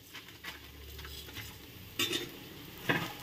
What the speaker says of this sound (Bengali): শাকটা ভাজা হয়ে গেছে, তো এর মধ্যে আমি তিল ছড়িয়ে দেবো।